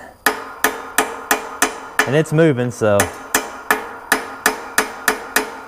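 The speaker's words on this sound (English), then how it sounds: "So I just took a hammer and just started tapping on it." Steady metal hammer taps on a pin of a Harbor Freight press, about two per second, sharp and close, briefly interrupted by someone speaking before the tapping resumes.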